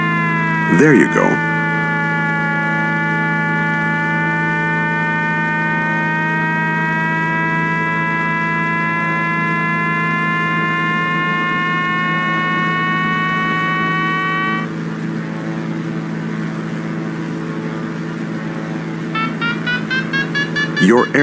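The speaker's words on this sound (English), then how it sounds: "That beeping you're hearing is the variometer." Glider variometer in Flight Simulator X during an aerotow launch, giving a steady electronic tone for about fourteen seconds, then falling quiet before rapid pulsed beeps start near the end, over a low hum.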